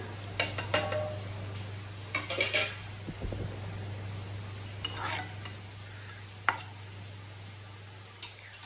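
Paneer cooking in gravy in a frying pan on a home stove: scattered clinks and scrapes of a spoon against the pan over a soft steady hum and faint sizzle, with one sharper knock near the end.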